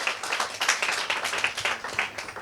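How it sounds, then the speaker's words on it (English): Seminar audience at a wealth-building talk giving themselves a round of applause, dense close hand claps in uneven rhythmic bursts filling the whole stretch. "So give yourself a big round of applause."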